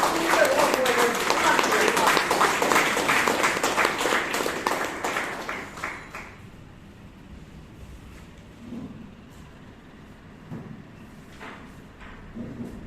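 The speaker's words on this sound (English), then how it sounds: "Please give her a round of applause" At a Bangalore Toastmasters club meeting, an audience claps loudly for about six seconds as a member is invited on stage, then the clapping thins out into quiet room noise with scattered movement.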